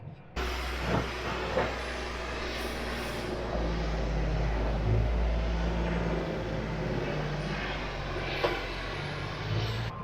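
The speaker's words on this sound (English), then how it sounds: "I'm just going to give it a quick blast off with a pressure washer before I go" A pressure washer blasts dust off a farm mower, giving a steady, loud hissing roar that runs unbroken for several seconds, with a low engine drone beneath and no talking.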